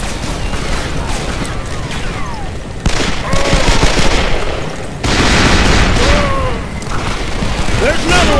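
Western gunfire in the video game Call of Juarez: Bound in Blood, with loud rapid bursts and booming shots in a dense, continuous fusillade while the game's characters shout over it.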